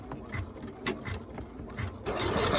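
A sewing machine tacks down a printed vinyl panel in short rhythmic bursts of stitching, a quick mechanical chatter that ends in a brief steadier run.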